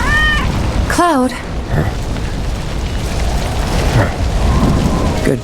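A cat meowing in heavy rain in the video game Final Fantasy VII Remake, with clear rising meows near the start amid constant rainfall and low thunder rumble.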